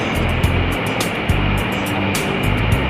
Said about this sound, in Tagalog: Ayun yung falls guys.